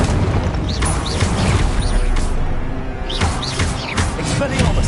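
An Incendio fire spell is cast in Hogwarts Legacy on PS5, a loud, sustained roaring burst with thumps and crackling bursts layered over continuous game effects for several seconds.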